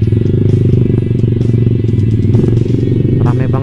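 A motorcycle fitted with a loud aftermarket racing exhaust rumbles steadily and close while riding through city streets, a deep continuous drone with a brief rise near the end.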